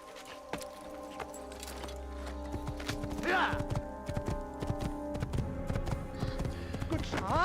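A horse's hooves clip-clop steadily in the video game Assassin's Creed, producing a brisk, even rhythm of light knocks over a bed of game music and ambient sound.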